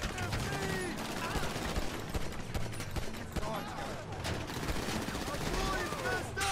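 Dense rapid gunfire from Grand Theft Auto V Online play, bursts of shots and crackling fire running continuously throughout at steady loudness, with excited voices talking over the action.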